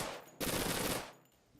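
A short, loud, dense burst of automatic gunfire from the survival game Persist Online, rattling for about half a second before cutting off into a quieter tail, with no talking.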